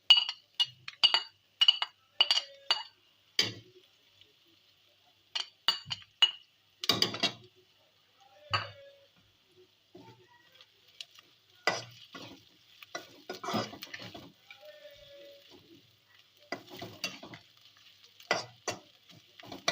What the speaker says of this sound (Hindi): हिला लेंगे ताकि जो है वो मसाला नीचे ना लगे और जले नहीं।